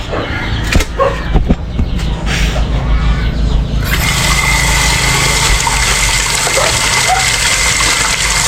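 Water running hard from a tap into a cooking pot being washed, a loud steady gush with clatters early on, close and continuous.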